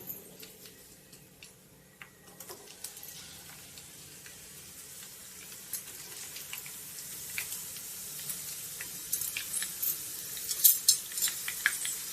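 Sliced onions frying in hot oil until browned for kesari fried rice, a quiet sizzle with soft stirring ticks that grows busier and louder toward the end.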